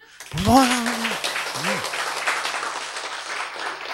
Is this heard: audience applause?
yes